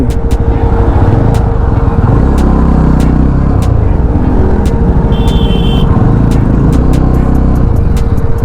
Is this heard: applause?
no